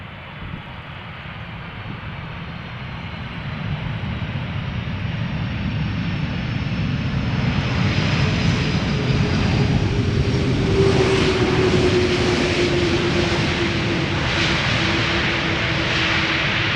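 A 29-year-old airliner in service since January 1995, inbound from Jeddah, arrives at Amsterdam Schiphol Airport: a steady, swelling jet roar builds over several seconds and stays loud, with a whining engine tone sliding down as it passes.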